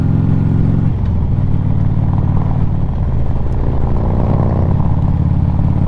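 A Harley-Davidson Twisted Cherry Street Glide Special with a Milwaukee 8 engine rumbles steadily while riding, a deep, loud, continuous engine drone with shifting tone and constant wind noise.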